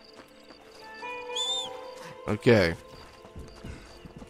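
Horse hooves clip-clop in the Red Dead Redemption video game, with a short whinny-like cry and a sharp mechanical rattle. A voice briefly speaks once.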